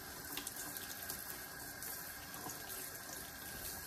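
A kitchen tap runs in a steady, fairly loud hiss of water into the sink while duck eggs are rinsed, unbroken and without voices.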